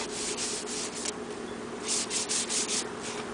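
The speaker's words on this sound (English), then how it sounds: "Right now we're sanding down the DTM using a little 180 grit, hand sanding, labor of love." Hand sanding DTM primer on a classic Torino Squire wagon with 180 grit sandpaper, a close, steady rhythmic rasping of back-and-forth strokes, with no voices.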